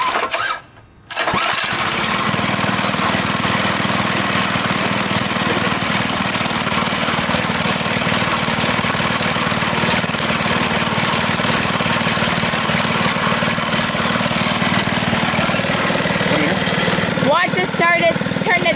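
An 80cc Mega Moto minibike engine pulls over and fires up after a brief pause, then runs on as a steady, loud, buzzy small-engine idle close by for the rest of the time.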